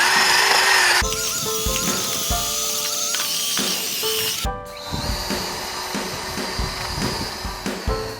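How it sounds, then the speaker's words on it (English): An electric drill spinning a wire brush whirs against an engine's surface in short bursts, stopping and restarting with scratchy, grinding strokes. "the wire brush on the drill turned out to be a much better way of keying it up"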